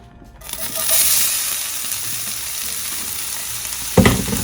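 Vegetables hit hot vegetable oil in a skillet and burst into a loud, steady sizzle that carries on close up, ending with a sharp clatter of utensil against pan, with no voices.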